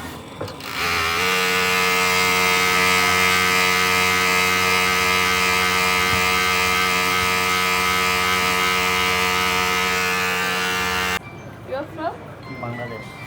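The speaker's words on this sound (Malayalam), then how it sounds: "ബ്ലാക്ക് മെഷീൻ ബ്ലാക്ക് മാത്രം ഓവർലോക്കിങ് ചെയ്യുവാണ്" Overlock sewing machine stitching black hijab fabric, a loud, steady whirring drone that runs close for about ten seconds, then cuts off abruptly before someone speaks.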